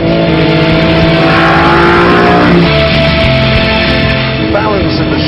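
A BMW M3 E46 CSL accelerates hard, its engine note rising strongly through the revs before a gear change and a further climb, loud and close, with a voice talking over the engine.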